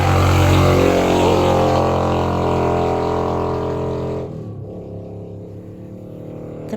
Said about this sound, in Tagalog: So, ang ingay ng mga motorsiklo.